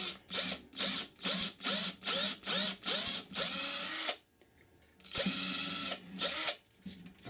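A drill drives a woodworm screw into a live-edge wooden bowl blank for the lathe: a run of about eight short, loud whirring bursts in steady rhythm, then two longer sustained runs separated by a brief pause.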